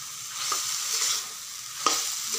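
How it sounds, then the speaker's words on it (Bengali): Taro leaves and prawns frying on low heat as salted taro releases its water, a soft steady sizzle with occasional stirring scrapes, close and moderately quiet with no voices. "এই জলটাকে কিন্তু ভালো করে আঁচ কমিয়ে কমিয়ে ভেজে নিতে হবে"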